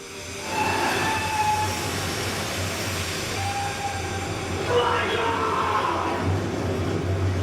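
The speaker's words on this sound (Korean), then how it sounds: "그리고 승객을 태운 기차는 무사히 다리를 건너게 됩니다." A passenger train rolls across a bridge in a steady, continuous rumble of rail noise with faint wheel squeals rising over it, loud and sustained throughout with no talk.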